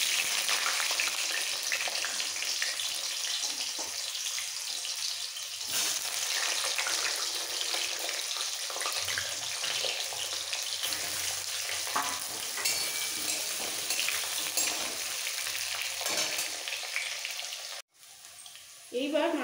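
Thin-sliced potato going into hot oil tempered with nigella seeds for a fish curry makes a dense, continuous frying hiss up close, with a brief break near the end.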